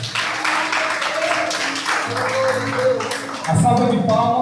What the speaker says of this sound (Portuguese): Vamos dar uma grande salva de palmas para Jesus,